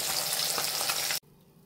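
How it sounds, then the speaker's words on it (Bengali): Pabda fish sizzle loudly in hot oil with a dense crackling hiss. The sound stops abruptly near the end and leaves only a quiet room tone. "তো এবার মাছগুলোকে ভেজে নেব বাবা"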